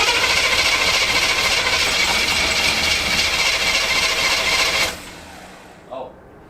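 Chevrolet El Camino engine, worn and running on a manual choke, roars loudly and steadily for several seconds, then cuts off abruptly, leaving a faint background and one small knock.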